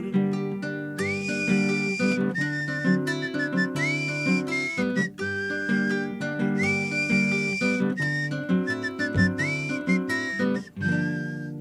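A person whistles a lilting melody over guitar accompaniment, the bright whistled notes rising and falling in phrases throughout.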